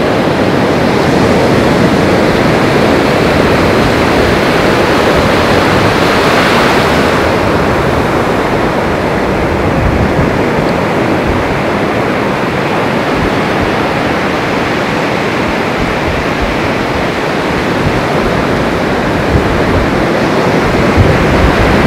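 Ocean surf at St Augustine Beach rolls in as a steady, loud wash of breaking waves with some wind noise across the microphone, continuous and close, with no talking.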